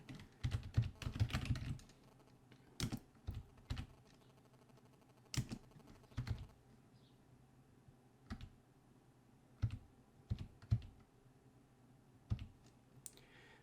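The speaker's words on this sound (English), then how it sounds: "this is the command that we're gonna type to get the Varium miner started" A command typed on a computer keyboard: a quick flurry of close key clicks, then scattered single taps and short bursts with pauses between, fairly quiet and without talk.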